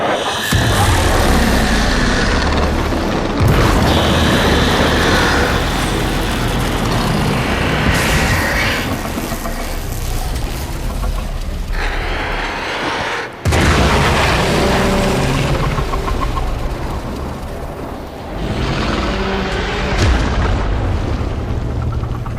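Rumbling blasts and booming debris fill the Heart of Deimos quest in Warframe: a dense, loud, sustained roar with several surging peaks and no clear gaps.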